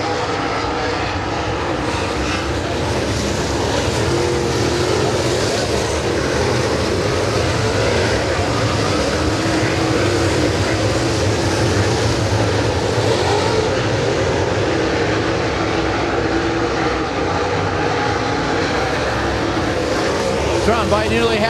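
Super late model race cars roar around Thunder Mountain Speedway in a steady, dense wall of engine noise during a feature race, with a commentator talking over the continuous drone.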